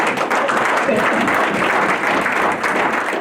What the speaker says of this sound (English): that's worth a round of applause too, I think, right?